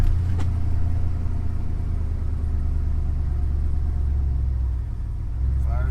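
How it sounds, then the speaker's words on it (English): An old pickup truck engine runs at a steady, deep idle close by, with a continuous low rumble and no clear change in pitch. "Fires up, no issues."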